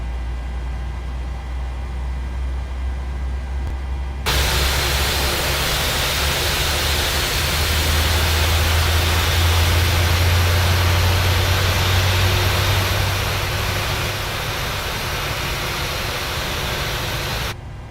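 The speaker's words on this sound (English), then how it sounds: "we're going to wait for that other engine to come up now" A jet airliner engine spools up in Microsoft Flight Simulator 2020, a steady broadband roar that jumps louder a few seconds in and holds, with a deep low rumble swelling in the middle before easing slightly.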